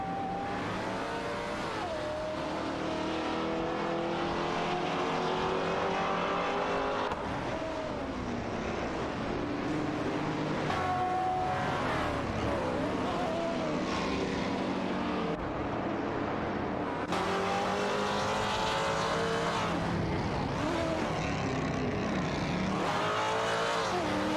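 Race cars in a racing video game roar around the track, engines revving and shifting continuously as several cars pass, loud and steady with changing pitch throughout.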